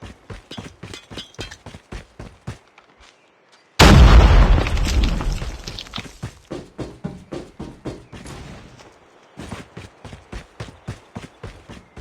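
Grenade blast in Call of Duty Mobile, one heavy booming explosion that cuts into a steady run of rapid gunfire or footsteps and decays over about two seconds.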